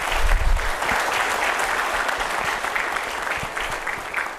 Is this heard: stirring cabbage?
no